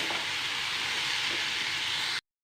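Chickpeas frying in a pan while being stirred, a constant loud sizzle and hiss that runs steadily for about two seconds, close up, then cuts off sharply, with no voices.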